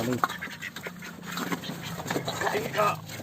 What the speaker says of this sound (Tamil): ஆனால் அது வாத்து தான்